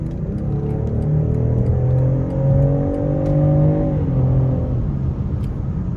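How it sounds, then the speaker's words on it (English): A 2024 BMW X5 xDrive40i M Sport's inline-six engine pulls hard under acceleration, a steady rising drone with climbing harmonics heard from inside the cabin, easing off near the end, with no talk. "So it gets up to speed very quickly, as most BMWs do with this i6 engine."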